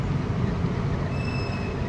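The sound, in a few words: warped brake disc scraping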